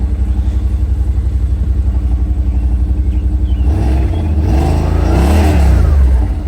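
A Yamaha RMAX on its stock factory exhaust idles with a throbbing pulse, then revs up briefly, the engine note rising and falling loud and near before easing back.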